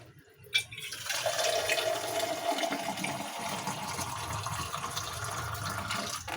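Water poured steadily into a cooking pot holding a whole chicken, a continuous close gushing and splashing that starts after a brief knock and runs to the end.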